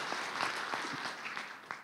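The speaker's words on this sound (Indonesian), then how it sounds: "Tepuk tangan dong sekali lagi untuk Anda semuanya" Audience applause at an organizational leadership conference, a moderate patter of many clapping hands heard fairly quietly and tapering toward the end.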